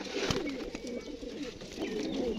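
Flock of fancy pigeons kept for sale cooing in repeated low, throaty phrases, with overlapping calls and faint rustling close by.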